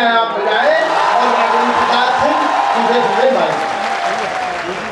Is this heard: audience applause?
yes